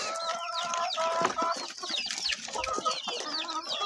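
Several chickens and chicks cluck and chirp close by while feeding, a busy overlapping chatter of short calls with a few higher peeps, continuous throughout.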